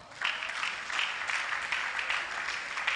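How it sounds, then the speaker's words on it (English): An audience at an indoor youth conference event claps in a fairly soft, even wash of applause that swells slightly in waves and holds steady for a few seconds without any voices over it. "Clap for her now"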